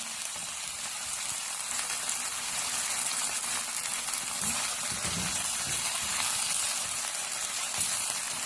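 Boneless chicken frying in a pan with garlic: a steady, even sizzle that carries on throughout at moderate loudness, with no talking over it.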